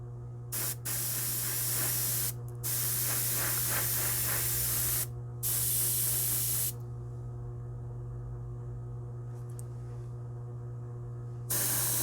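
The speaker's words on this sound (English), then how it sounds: "I'm using the airbrush to accelerate the drying" Airbrush spraying paint on a hobby model, a steady close hiss in long bursts broken by short pauses, over a constant low electrical hum, with no talking.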